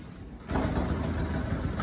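A Yamaha motorcycle engine idles close by with a steady, rough rumble that comes in abruptly after a brief quieter start, with no talking.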